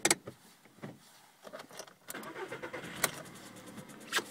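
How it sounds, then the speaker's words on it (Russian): A VW Polo sedan with a 1.6 CFNA engine, already warm and knocking after a warranty repair, is started: a short cranking burst catches into a faint, uneven idle with clicks and rattles, no speech. "Сейчас я запущу двигатель."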